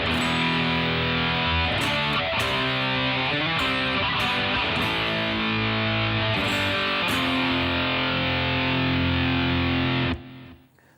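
A distorted electric guitar plays the "Still Of The Night" outro in loud, sustained power chords with short fills. The guitar is close and dense, stops abruptly near the end, and no one speaks.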